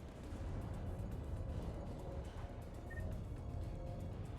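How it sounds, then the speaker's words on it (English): An anti-aircraft gun fires in the game Mass Effect 3, a dense, continuous rumbling barrage of heavy booms that stays loud and steady throughout. "Let's go shut that AA gun off."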